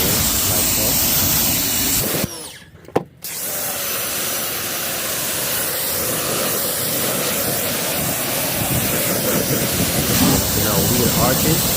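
A water spray rinses a Hyundai Santa Fe during detailing, a loud continuous hiss close by that breaks off for about a second before resuming, with someone talking over it.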